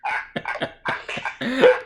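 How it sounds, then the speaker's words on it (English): A burst of harsh, repeated coughs in quick succession, loud and close, with a strained, choking quality toward the end. "I'm having a huge coughing fit over here."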